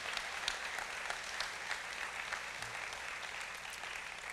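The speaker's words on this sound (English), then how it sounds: "Let's give them another big round of applause for doing that." An audience at the Choctaw Nation State of the Nation event claps in a sustained round of applause, a dense wash of many hands at moderate distance, holding steady throughout without any voices.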